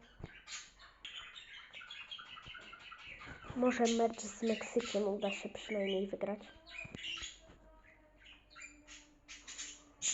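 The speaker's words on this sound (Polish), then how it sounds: "sorry za te odgłosy w tle, jak słyszycie papugi czy coś innego" Shrill bird squawks and chatter, like parrots, ring out in the background while someone talks, growing busier for a few seconds in the middle.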